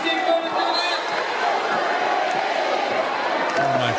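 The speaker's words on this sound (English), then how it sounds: "It's just the crowd now." A live concert audience roars and cheers continuously after the music drops out, a dense, loud wash of many voices with scattered shouts throughout.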